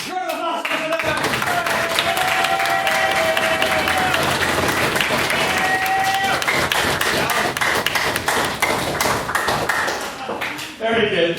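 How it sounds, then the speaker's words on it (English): Audience applause and cheering at a debating society event on Northern Ireland politics, a dense, loud wash of many hands clapping that holds steady for about ten seconds with scattered whoops and voices, then briefly dips before a final burst. "Round of applause, Mr. Nairn."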